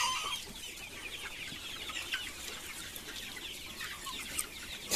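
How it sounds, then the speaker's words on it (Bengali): Native chickens clucking at a poultry farm, a cluster of soft overlapping clucks and chatter at moderate distance over a noisy outdoor background, with no talking. "এখানে সব দেশি মুরগি"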